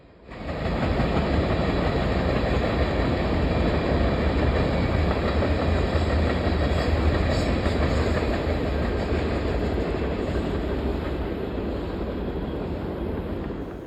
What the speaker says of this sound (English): I've never seen loaded well cars thrown in on a mixed freight